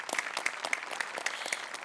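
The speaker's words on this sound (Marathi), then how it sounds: "अभिजित पवारसाठी पण एकदा टाळ्या वाजल्या" An audience applauds a performer after a stage act, with soft, fairly quiet clapping that falls into an even, rhythmic pulse of distinct claps.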